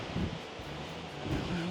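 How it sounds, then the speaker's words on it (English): Steady blustery wind at sea buffeting a cruise ship balcony on the MSC Virtuosa, a continuous broadband rush that swells and dips throughout with no voices. "It's quite windy, quite blustery today."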